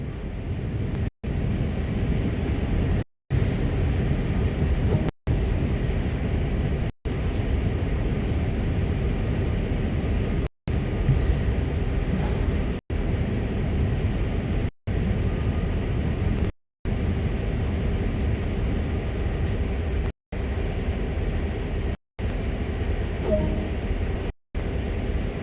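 A steady, heavy rumble of a CSX freight locomotive braking to a stop in Train Sim World, droning for a long stretch, broken by brief silent gaps.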